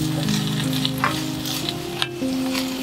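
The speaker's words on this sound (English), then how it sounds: "This is sizzling" Food sizzles steadily in a hot pan while soba noodle miso soup is cooked, a continuous close frying crackle with a few brief stirring clatters and no talking.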